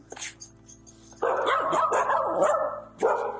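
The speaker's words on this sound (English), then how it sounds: "You're a cute little dog." A dog barks repeatedly at close range in a house, with sharp yips and whining, agitated barks in irregular bursts, some overlapping a steady low hum in the background.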